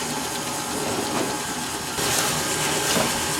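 An electric mixer beats oil and sugar for an orange carrot cake batter, giving a steady, loud, close whirring hiss that runs without a break and grows slightly stronger partway through.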